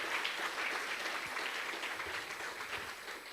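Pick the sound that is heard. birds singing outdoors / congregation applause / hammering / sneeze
congregation applause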